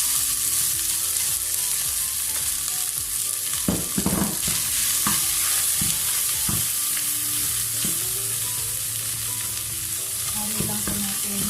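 Corn tossed into a hot pan with browned garlic for a vegetable soup, sizzling steadily and loudly while a utensil scrapes and knocks against the pan in occasional sharp strokes.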